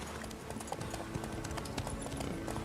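Horse hooves clip-clop in The Witcher 3 video game, a quick, steady trotting rhythm of repeated near hoofbeats across the whole short stretch.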